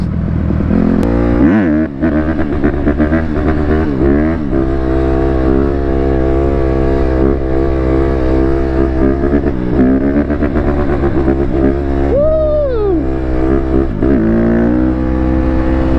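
A 150 dirt bike engine revs hard and continuously while being ridden, loud and close, its pitch rising and falling through gear changes for the whole stretch.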